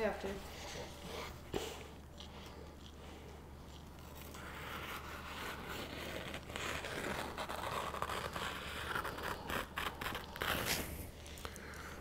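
A knife freshly sharpened on Japanese natural and Naniwa whetstones slices through a paper towel, giving close, papery scraping and tearing rustle over several seconds, with people talking over it.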